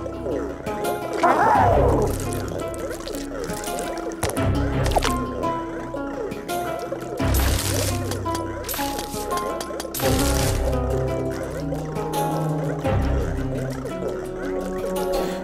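Water running and dripping inside the video game Luigi's Mansion 3, wet splashy trickles and drips recurring in bursts amid busy game sounds and music, with a voice talking over parts of it.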